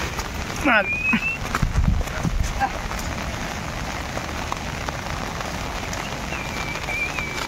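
Steady patter of rain on a surface fills the background, with a few brief clip-clop knocks and faint chirps, no talking.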